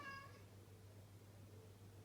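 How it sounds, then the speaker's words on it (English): A house cat meows a couple of times near the start, clear but not loud, then the sound settles into a steady low room hum with no further calls. "if you hear my cat, I'm sorry,"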